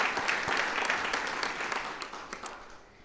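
An audience at an awards ceremony applauds a winner, a modest round of clapping that starts full and gradually thins and fades over a few seconds.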